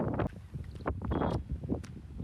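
Wind gusts across open farm fields among vegetable vines, buffeting loudly against the microphone in uneven rumbling bursts, close and blustery.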